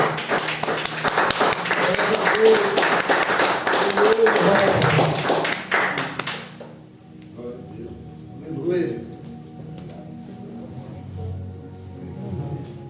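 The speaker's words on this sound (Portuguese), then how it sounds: "Pode aplaudir bem forte a Jesus" Church congregation applauding loudly for several seconds in a worship service, dense clapping that cuts off sharply, followed by a pastor speaking over quieter room sound.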